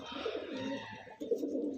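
Close, steady cooing from Andhra breed pigeons fills the moment, one drawn-out throaty phrase followed by a second after a brief dip.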